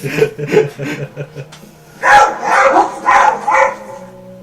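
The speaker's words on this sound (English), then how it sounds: "What's that? Dog." A dog barks repeatedly nearby, first a run of quicker, moderate yips, then a louder cluster of harsher barks after a short pause.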